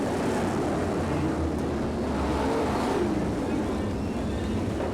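Race cars on a dirt racetrack roar continuously, with engine noise rising and falling as they pass, heard loud and near throughout.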